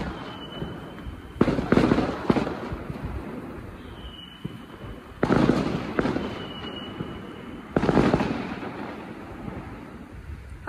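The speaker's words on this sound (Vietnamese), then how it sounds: "lấy tiếng pháo làm nhạc nền luôn" Firecrackers explode in several loud, crackling volleys a few seconds apart during a Lunar New Year family visit to graves in rural China, each burst rattling off rapidly before fading.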